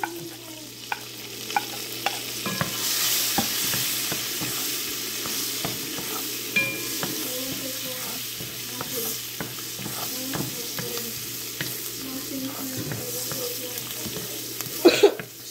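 Garlic sizzles in a pan of oil and margarine, a steady frying hiss broken by repeated scrapes and clicks of a spoon stirring, close and continuous with no talking.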